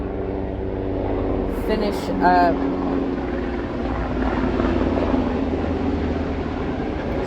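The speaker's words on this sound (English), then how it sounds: "I got like military planes over me" Low, steady rumbling drone of military planes flying overhead, continuous and fairly loud, with a person talking briefly over it.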